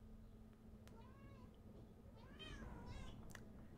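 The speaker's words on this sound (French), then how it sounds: "Tais-toi, chaton." A kitten meows softly a few times, thin rising cries spaced through a quiet room with low background hum.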